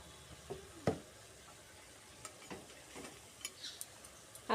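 Small fried puti fish being mixed into cooked pea greens, quiet scattered taps and scrapes of a spoon against the pan over a soft low sizzle.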